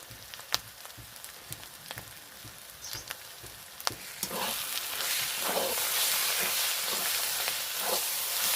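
Masala paste for a homestyle chicken curry cooks in a pan with ginger and salt, first as scattered clicks and scrapes of stirring, then a loud, steady sizzle swelling up near the end.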